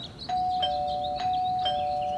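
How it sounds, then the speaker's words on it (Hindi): A doorbell rings three times in quick succession, each a bright electronic chime, loud and close, with a faint hum beneath. "तभी डोरबेल बजी"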